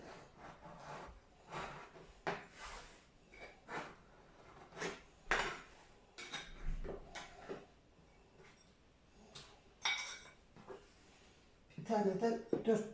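Dough for ground-meat tacos being cut in a kitchen, a series of soft, close taps and scrapes against a board over about thirteen seconds, with a louder clattering burst near the end; no speech over it.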